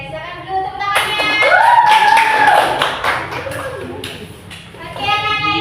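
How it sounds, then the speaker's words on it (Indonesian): Schoolchildren in a classroom clap together at their teacher's request, a burst of sharp hand claps mixed with children's voices and chatter, close and lively. "Oke, silakan dulu tepuk tangannya"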